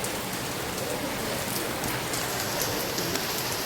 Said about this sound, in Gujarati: ફૂલ વરસાદ ચાલુ થઈ ગયો.